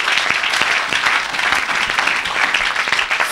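A church congregation applauds during worship, a dense, steady wash of many hands clapping at close range with a few stronger individual claps standing out.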